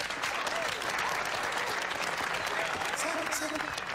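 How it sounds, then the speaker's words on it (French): An audience applauds loudly to welcome the jazz poet Professor Skiba, a steady, dense burst of clapping with voices mixed in. "Je vous demande d'applaudir très fort le grand poète du jazz"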